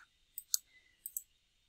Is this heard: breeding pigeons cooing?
no